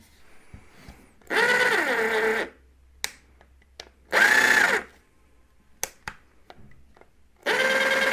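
An Einhell TC-JS 18 Li cordless jigsaw runs in three short, loud bursts of whirring motor whine, close by, separated by quiet clicks and handling noises.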